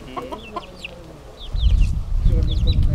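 Several chickens cluck and chirp nearby, with a loud low rumbling noise rising partway through beneath the birds.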